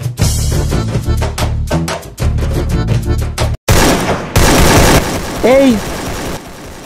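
Rapid bursts of Free Fire video game gunfire rattle out in quick succession, broken by a short gap and followed by other game noises, with a voice calling out briefly.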